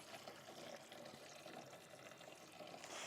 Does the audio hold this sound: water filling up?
yes